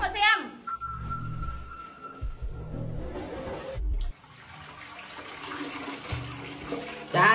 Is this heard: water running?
yes